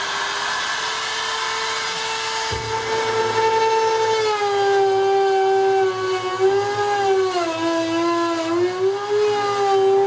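A handheld router with a ball-bearing bit trims plywood on a teardrop camper door. It gives a loud, steady high whine that dips slightly as it bites, running continuously throughout.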